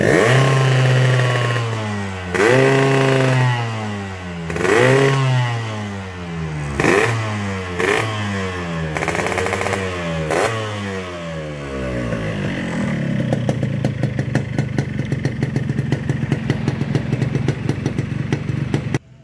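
A restored 2005 Yamaha RX King motorcycle engine is revved repeatedly, each rev rising and falling loudly and close, and then settles into a fast, even, rattling idle for the last several seconds.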